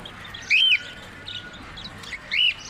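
Small birds at a Friday bird market in Buraydah give two short, bright chirps about two seconds apart, standing out over a low, steady market hum.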